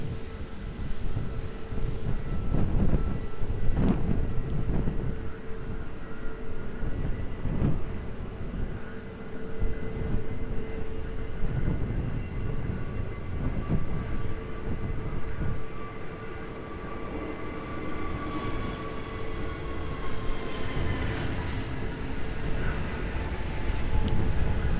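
A jet airliner powers up for takeoff on runway 20 at Lisbon Airport, a steady broad engine roar with rising tonal whine, sustained and moderately distant throughout.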